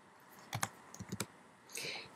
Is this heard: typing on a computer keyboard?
yes